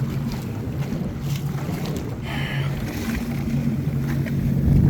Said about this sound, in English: the seas are getting a little more choppy, slowing me down